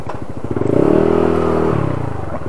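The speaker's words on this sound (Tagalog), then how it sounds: "Ayun yung motor niya, Aerox version 2." A Yamaha Aerox version 2 scooter engine idles with a steady low putter, rising briefly into a moderate rev before settling back, close by.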